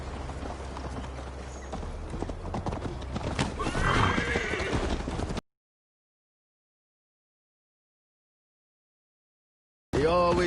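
A horse ridden in Assassin's Creed Valhalla, with rhythmic hoofbeats clip-clopping at a steady pace and a loud neigh, close up, then silence before a brief return of the sound.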